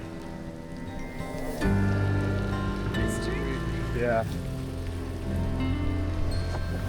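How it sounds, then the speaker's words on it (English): Heavy rain falls on a cycling trip through Patagonia, a steady soft hiss in the background with gusts and other noises on top and a short spoken word. "It's really raining now"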